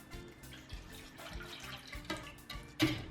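Tap water runs into a container in a home kitchen while bread dough is being started, a soft, low splashing trickle with a few small bumps and clinks, quiet and close.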